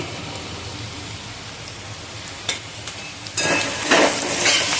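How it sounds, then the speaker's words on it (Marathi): A phodni tempering for kande pohe fries in a pan, giving a steady soft sizzle. It swells into louder crackling and spitting near the end as more goes into the hot oil. "पुन्हा थोडंसं फ्राय करून घ्यायचं फ्राय झालेलं आहे आपलं सगळं फोडणी"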